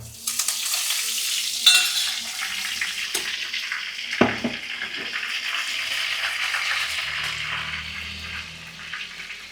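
Onions, dried red chilli and curry leaves fry in hot oil, a bright crackling sizzle with a few sharp pops and stirring scrapes that gradually settles into a softer, steady hiss.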